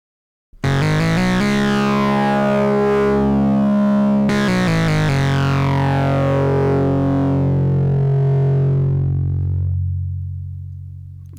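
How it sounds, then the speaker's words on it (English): Synthesizer driven through the Alpha Pro's crunchy drive mode, a loud sustained distorted tone with a sharp retrigger partway through, holding steady before fading out, with no voice. "So let's go straight to crunchy drive mode."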